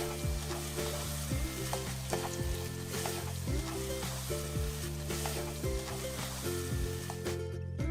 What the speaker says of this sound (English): add the carrot strips and the cut bell peppers and keep stir frying.